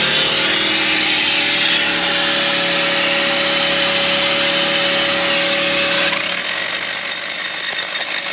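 A loud, steady power-drill whine bores into rock continuously for several seconds, its pitch shifting slightly near the end, with no voices.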